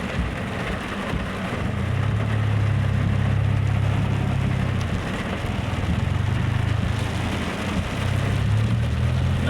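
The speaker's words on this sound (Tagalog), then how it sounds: "Malakas ulan." Heavy rain pours down in a dense, steady hiss, with a low engine idling underneath throughout.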